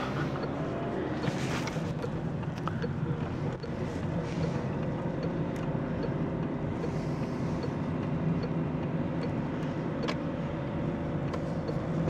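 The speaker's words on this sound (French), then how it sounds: "Ouf, le moteur, il se déchaîne." A car engine labours hard as a learner driver pulls out of a roundabout during a driving lesson, a loud, close, steady drone mixed with road rumble that holds for the whole stretch with no voices over it.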